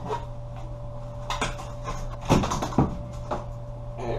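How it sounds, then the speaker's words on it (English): A utility knife cuts along the trim of a door being removed for a pre-hung door installation, making soft scraping and rasping strokes with a few sharper scratches, over a steady electrical hum. "Take your utility knife and run it along the edge right here."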